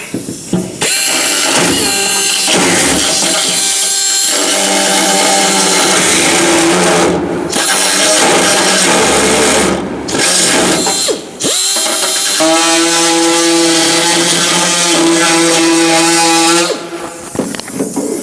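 A power drill loudly bores out the centre bolt hole in a steel plate for mounting 2014 Camaro seats in a 1970 El Camino, grinding and whining steadily with brief pauses as the bit bites in.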